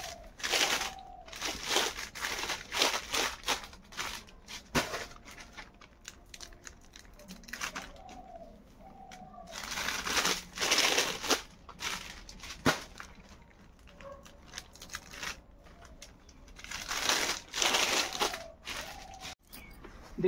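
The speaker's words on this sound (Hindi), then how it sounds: "अब ये थोड़ा सा और बचा है, इसमें भी इस तरह से पन्नी पहना के रेडी कर लेंगे।" Plastic sheeting crinkles and crackles as it is wrapped around bundled flower brooms (phool jhadu) in a small home workshop, coming in repeated bursts of rustling with quiet gaps between.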